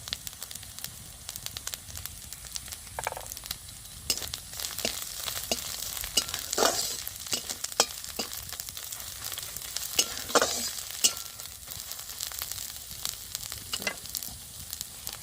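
Ginger and turmeric powder frying in a little oil in a pan, a continuous crackling sizzle broken by repeated scraping stirs of a spatula, close and without talk.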